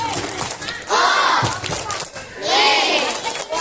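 A crowd at an Indonesian religious lecture does a rhythmic 'tepuk wow imut' clapping cheer, with two loud bursts of voices shouting in unison between rhythmic claps, close and lively.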